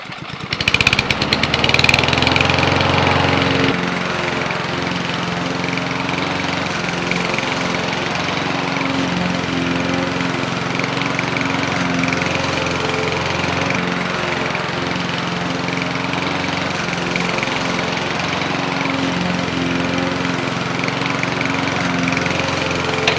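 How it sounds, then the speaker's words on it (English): A lawnmower engine runs loud and close, roaring at a higher pitch for the first few seconds before settling into a steady, droning hum that continues without pause. "I just used the lawnmower and went over the top of it"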